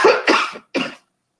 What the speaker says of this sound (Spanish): La tos no es de coronavirus porque estoy vacunada